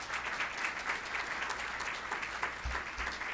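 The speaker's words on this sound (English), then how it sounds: "they should stand up and take some applause" Audience applause at a fall 2014 cybersecurity summit, a steady even wash of clapping from a sizable crowd in a hall, fairly distant and moderate, with a low thump near the end.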